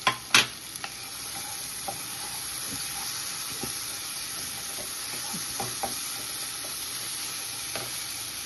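Spices fry in a pan as fried capsicum is added and stirred in, a steady soft sizzle with scattered clicks and scrapes of the spoon, preceded by a couple of sharp knocks at the start.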